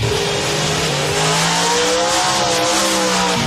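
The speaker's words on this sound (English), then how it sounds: "It's a 1990 Beretta, 615 cubic inch Dalton Automotive Chevrolet prepared out of Charlotte, North Carolina, nitrous powered." Nitrous-powered 1990 Beretta drag race car with a 615 cubic inch Dalton Automotive Chevrolet engine, loud and close, holding a steady heavy roar with rising pitch sweeps as it revs, alone with no talk.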